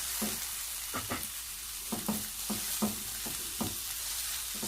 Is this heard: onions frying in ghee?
yes